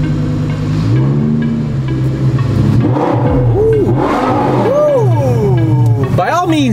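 Lamborghini Gallardo with an Avior Performance muffler-delete exhaust, loud and close, revving repeatedly in rising and falling sweeps. The engine roars throughout with voices underneath.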